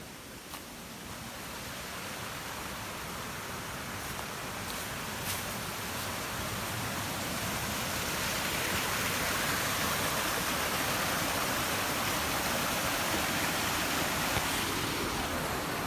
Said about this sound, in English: We're also right by a waterfall.